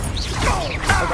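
Confringo fire spell cast in the video game Hogwarts Legacy, a short whooshing magical burst with a crackling impact, loud and close, without speech.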